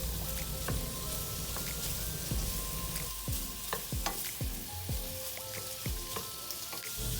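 Sausage and cabbage sizzle and fry in a pan at a soft, steady level, with occasional scraping and stirring clicks. There is no talking.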